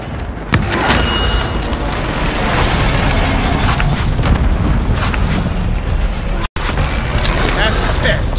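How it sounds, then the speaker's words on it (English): Airstrike explosions in a Warzone zombies video game, a dense, continuous barrage of loud booms rolling for several seconds with a brief cutout near the end, and voices talking over it. "Allied precision airstrike incoming"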